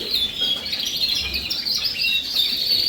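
Canaries in breeding cages chirp and trill continuously, a bright, busy chorus of overlapping tweets heard fairly close and steady throughout.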